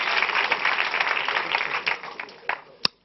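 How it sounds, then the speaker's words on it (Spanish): Studio audience on a Spanish comedy show claps for a guest, a full sustained round of applause that gradually thins toward the end and finishes with one sharp loud clap. "Fuerte aplauso para él"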